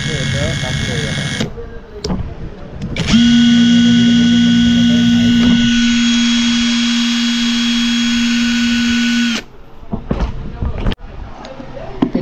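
A Total 20V brushless impact wrench runs loud and close with a high whining motor, holding a steady drone for several seconds before cutting off, with someone talking around it.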